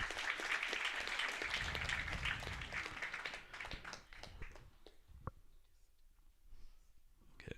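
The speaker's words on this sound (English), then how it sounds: "Give Andrew a big round of applause again." Audience applause at a book launch fills the first few seconds loudly, then thins to a few scattered claps and fades away.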